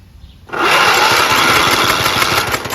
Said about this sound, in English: Let's see if the starter works and if this cranks.